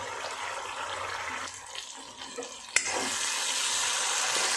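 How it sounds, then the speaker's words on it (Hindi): Garadu (yam) gravy masala frying in oil in a pan, a steady close sizzle with a brief pause and a sharp clink of stirring before the hiss resumes. "अच्छी तरह ऑयल रिलीज़ होने तक इसको हम फ्राई कर लेंगे।"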